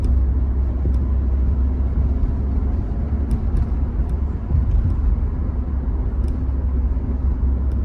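An old car with halogen headlights drives along, its engine and road noise forming a constant loud low rumble with a faint whine and no talking.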